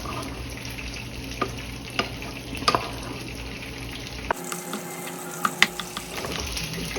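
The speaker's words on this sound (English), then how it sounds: "you're gonna mix that into the rice really well. Combine it really good." Rice vinegar being stirred and mixed into cooked rice for a sushi bake, with soft wet scraping and a few sharp utensil taps against the bowl, close and steady, no talking.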